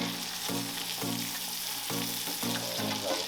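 Wagyu ribeye steak searing in a hot pan, a dense steady sizzle with a low hum pulsing in short repeated bursts as the meat is pressed and turned.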